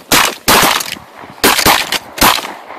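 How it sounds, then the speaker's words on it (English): Loud shotgun blasts fired at geese during a hunt, four heavy reports in two quick pairs, close and sharp with ringing decay between them. "Did everybody shoot at that?"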